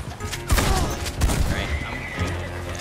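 A horse whinnies amid a busy, noisy Red Dead Redemption 2 Online game soundscape with shotgun blasts and clattering, the neigh rising clearly over the din.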